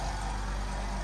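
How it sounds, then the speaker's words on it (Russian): An oil-free Hyundai HYC 18224 LM air compressor runs close by with a steady, even mechanical hum and faint rattle, continuous and alone throughout. "И вот включился компрессор."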